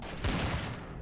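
A quick burst of gunfire from the video game Garry's Mod, Trouble in Terrorist Town mode, rings out sharp and loud for about a second.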